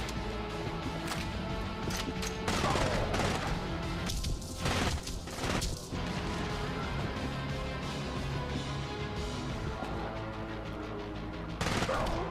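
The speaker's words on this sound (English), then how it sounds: "Shooting all over the place." Gunfire from the VR shooter Fracked on PS5 PSVR, a steady run of dense shots and impacts under game music and effects, with bursts around the middle and near the end, close and fairly loud.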